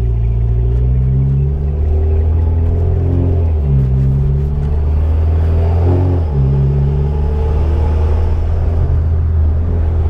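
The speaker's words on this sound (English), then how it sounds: "Is the exhaust really drony on the freeway?" Exhaust of a 2008 Mitsubishi Evolution X while driving on the freeway, on a car built with a track chassis: a steady, loud, low droning rumble that rises and dips slightly with the engine, with no talking.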